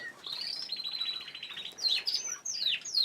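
A canary in a cage gives a string of close, bright chirps and rising-and-falling whistled calls, with short pauses between phrases.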